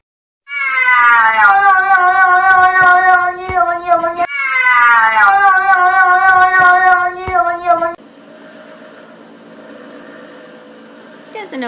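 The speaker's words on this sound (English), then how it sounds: "I mean, this is even a cat." A cat gives two long, loud, drawn-out meows close to the microphone, one after the other, followed by a quieter steady hum.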